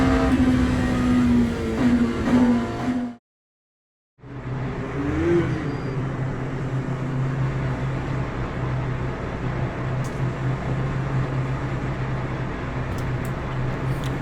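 LMP2 prototype race cars in Le Mans Ultimate at the race start: a loud, steady engine drone with a brief total dropout of sound partway through, then a dense, continuous roar.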